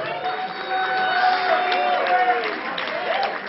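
Canned applause sound effect played after a vanishing-bottle magic trick: steady crowd clapping with cheering, a continuous dense wash of sound lasting a few seconds at moderate loudness, with no talk over it.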